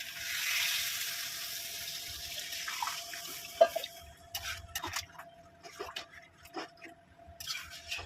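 Water pours into a pan of simmering curry, with a splashing rush followed by irregular drips and sloshing against a faint steady hum from the kitchen.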